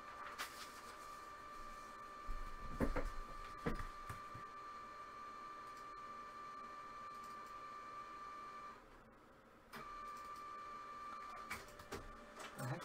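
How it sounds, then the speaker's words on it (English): An office printer running through a job, giving a steady mechanical whir with a sustained tone and light clicks. It stops briefly partway through, then resumes at a moderate, close level. "Why is it printing like 5 times?"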